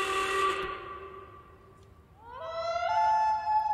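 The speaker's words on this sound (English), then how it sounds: "A loon." A loon's wailing call, one drawn-out tonal cry that fades, then a second rising, sustained wail that swells louder, clear and alone with no talk.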